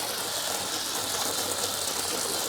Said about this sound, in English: So I'm just gonna give it another rinse now that I got all that applied.